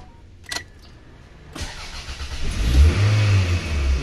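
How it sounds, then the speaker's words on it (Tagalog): A car with hard starting and a suspected fuel pump problem cranks with a couple of sharp clicks, then the engine catches and revs up to a loud, sustained high-RPM roar, close by and without talk. "Umandar na kaso nag-high RPM."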